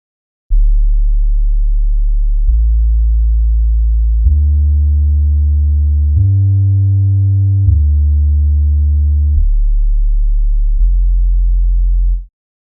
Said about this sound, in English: if you want to make them a bit more cinematic, to give them some weight, usually I will double them with a synth sub bass